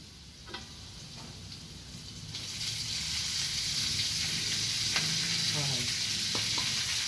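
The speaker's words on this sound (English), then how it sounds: "Now, we put in the mustard greens into the pan." Mustard greens frying in a pan for fried rice: a sizzle that swells louder partway through and then holds steady, with occasional spatula taps and scrapes, close and without talk.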